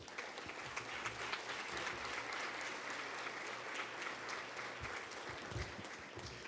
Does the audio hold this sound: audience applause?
yes